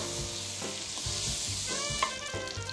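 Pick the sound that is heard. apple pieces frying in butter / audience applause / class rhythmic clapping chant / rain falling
apple pieces frying in butter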